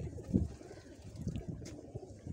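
Pigeons cooing nearby in low, soft repeated coos over a quiet background, with faint voices murmuring now and then.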